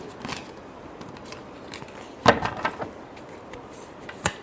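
Tarot cards being shuffled make quiet papery riffles and flicks, with a few sharper snaps near the middle and end, and no voices.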